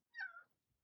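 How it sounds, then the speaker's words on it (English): A pet cat lets out a single short, soft meow close by in a quiet room, a brief rising-then-falling call with nothing else around it. "my cat's trying to say hi"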